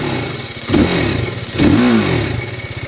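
TVS Apache RTR 310 motorcycle with a 312 cc liquid-cooled DOHC engine running close by, two rising revs blipping over a steady idle, no talking.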